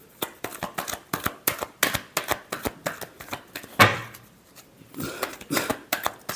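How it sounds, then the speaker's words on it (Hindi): Tarot cards being shuffled by hand during a love reading, a rapid run of crisp riffling slaps and flutters close by, with one sharper snap partway through and no talking. "Last shuffle."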